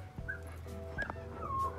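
A red Hmong bobtail dog whimpers close by in a quiet indoor setting, giving three short, high, thin whines spaced across less than two seconds.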